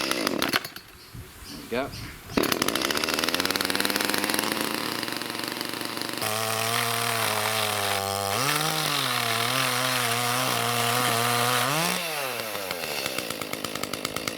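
A small Echo petrol chainsaw sputters, starts and runs loudly up close, its engine pitch swelling and dropping with the throttle; a voice speaks briefly near the start.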